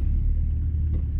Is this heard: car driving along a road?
yes